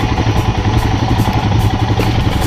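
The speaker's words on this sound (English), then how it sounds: "Avenger being a cruise bike, the experience was so good." A Bajaj Avenger cruiser motorcycle rumbles steadily and close while being ridden off-road on a rough forest road, its engine note continuous with rattling clatter over the bumps.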